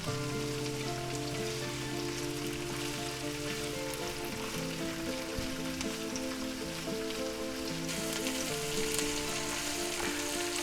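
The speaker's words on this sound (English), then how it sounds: "Boy, they smell good when they're frying" Steady sizzling of onions and peppers frying in a hot pan, a continuous crackle and hiss throughout with no voices.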